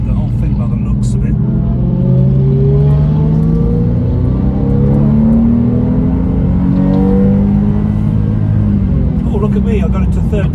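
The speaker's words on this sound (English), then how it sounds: "I got into third gear, but now we're going straight back down into second" Car engine on the winding Tail of the Dragon mountain road, rising and falling in pitch as it shifts from second into third gear and back down, loud and steady throughout with talk over it.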